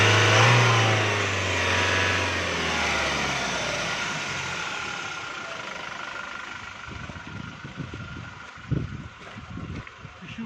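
Toyota Innova engine revving, a loud steady mid-range roar that swells early and stays strong, with a low droning note fading after the first seconds and rougher bursts near the end.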